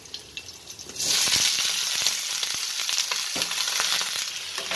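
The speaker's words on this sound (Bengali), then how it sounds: "মেথিটা ভালো ভাজা হওয়ার পর আমি ঢেলেছি" Mixed vegetables of brinjal, potato, radish, ridge gourd, pumpkin and pointed gourd tipped into hot oil with fried fenugreek seeds, erupting into a loud, sustained sizzle after a quieter start, with light clatter from stirring.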